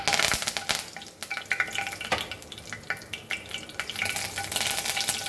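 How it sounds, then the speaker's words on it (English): Curry leaves dropped into about four tablespoons of hot oil for mutton brain fry, a loud crackling sizzle with popping spatters and a few spoon clinks, close and without talk. "I've taken around 4 tablespoons of oil for this, because I need it to fry. You can use less, it's up to you. So we'll add our curry leaves"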